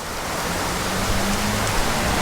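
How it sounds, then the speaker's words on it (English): Heavy rain pouring down outside the church at La Barrio in Nicaragua, a dense, steady hiss of falling water with runoff splashing, constant and enveloping with no voices. "That is a lot of rain"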